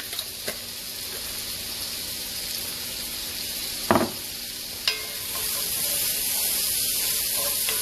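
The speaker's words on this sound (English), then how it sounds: "I'm going to let that go ahead and saute a little bit." Chopped garlic sautéing in a pan, a steady close-up sizzle with a few sharp ticks and pops, the hiss growing fuller toward the end, with no talking.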